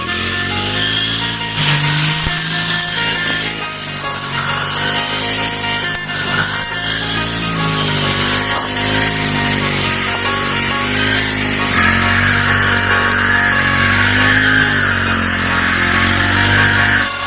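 Loud, continuous whine of a cheap brush cutter's small two-stroke engine cutting grass, its pitch dipping and rising as it works, with a rough grinding edge.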